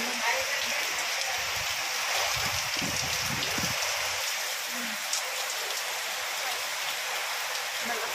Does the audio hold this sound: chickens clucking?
no